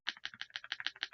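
Keystrokes on a Nuphy Halo65 HE keyboard, including its space bar, come as a quick run of about a dozen close, crisp clacks in a steady typing rhythm, with no voices.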